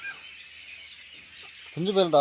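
Hens give drawn-out, wavering clucks, followed near the end by louder, sharper squawks close to the microphone.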